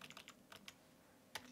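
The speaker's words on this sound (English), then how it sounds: "So I'm sorry about the typing here." Quiet keystrokes on a computer keyboard come in a short burst of clustered taps, a pause, then a single louder click.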